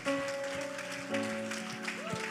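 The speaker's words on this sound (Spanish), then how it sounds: "Dale un aplauso fuerte al Señor." Church congregation claps for the Lord during a sermon, a faint, steady patter of applause blended with sustained music and occasional voices.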